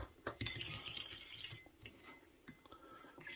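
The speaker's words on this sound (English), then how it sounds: "Stir it up so that there's no" Dry keto bread mix stirred into butter in a bowl, with scattered clinks and scrapes of a utensil against the dish, close and fairly quiet, no talking.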